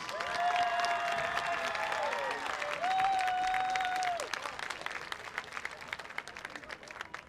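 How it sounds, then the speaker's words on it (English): Fans at a high school homecoming event give a sustained round of applause and scattered cheers that fade out, while a sustained tone sounds over the crowd for the first few seconds. "Fans, please give these lovely young ladies and escorts a round of applause."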